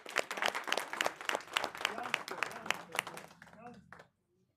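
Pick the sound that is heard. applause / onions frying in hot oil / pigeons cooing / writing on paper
applause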